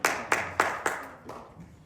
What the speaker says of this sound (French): nous invitons Papa Carnot sous vos acclamations.